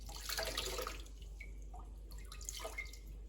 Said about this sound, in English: Just pressing all the water out that I can.